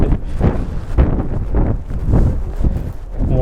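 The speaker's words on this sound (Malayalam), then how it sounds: "നല്ല കാറ്റ്." Strong gusty wind buffets the microphone during a walk in a winter storm at -9C, roaring loudly and unevenly in repeated surges, with faint footsteps beneath.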